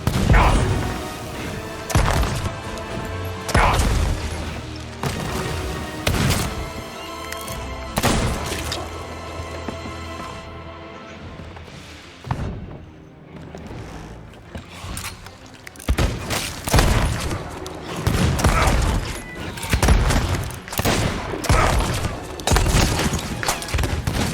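Gunfire and explosions in the pirate video game Sea of Thieves come as a long run of loud, close booming shots and crashes, some in quick bursts, with a brief lull midway before the barrage resumes.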